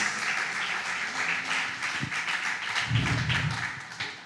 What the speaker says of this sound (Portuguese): você pode dar uma salva de palmas ao Rei Jesus